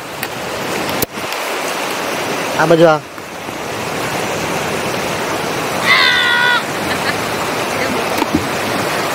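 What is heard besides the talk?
small forest stream flowing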